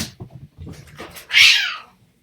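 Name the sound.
cats fighting, meowing and caterwauling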